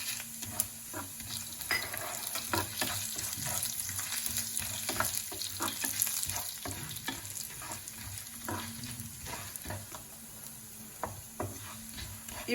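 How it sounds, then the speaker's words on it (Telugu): Cumin seeds and black pepper sizzle in hot oil for a Telugu-style hotel pongal tempering, a steady close frying crackle with small pops scattered throughout and no talking. "ఇప్పుడు ఆయిల్ వేడెక్కిందండి. దీనిలోకి ముందుగా జీలకర్రను వేసుకోవాలి."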